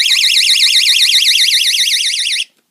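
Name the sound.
panic alarm on a glass display case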